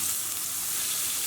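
A steak sizzles in a frying pan with a steady, loud, bright crackle and hiss that holds unbroken throughout, close by and with no talking.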